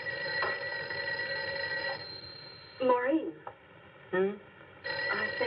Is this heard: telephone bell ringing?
yes